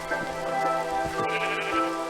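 Ancient sheep in a video game bleat several times over steady rain-like noise, the calls rising and falling at moderate volume with no talking.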